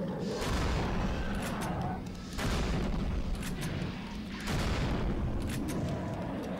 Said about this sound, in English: Okay, so now we go in here and shoot this one.